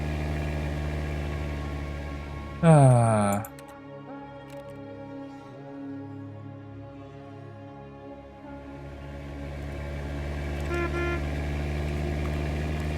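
A car in The Stanley Parable sounds a single loud horn blast, with its engine humming steadily before and after the honk.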